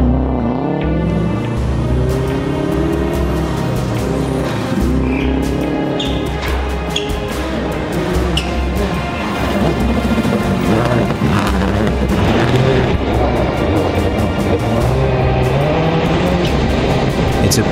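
Rallycross race cars from a 63-car field at X Games Austin, including Subaru entries, roar past with loud, continuous engine noise, rising and falling revs and gear shifts, dense and close throughout with no talk.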